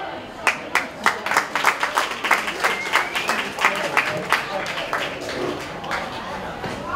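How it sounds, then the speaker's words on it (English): An audience at a film and TV industry career event applauds, dense clapping with a few sharp claps on top, steady and fairly loud throughout with some crowd noise mixed in. "Another round of applause."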